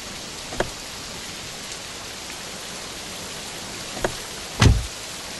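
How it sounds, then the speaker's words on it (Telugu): Heavy rain falls steadily as a constant hiss, with a few sharp knocks and a dull thump breaking through near the end. "మేడం, వర్షం బాగా కురుస్తుంది."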